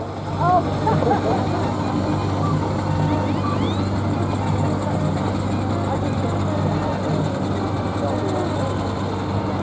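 A Foden steam tractor rumbles past in a steam rally parade, a steady low mechanical chug and hum running continuously with crowd and other engine noise around it.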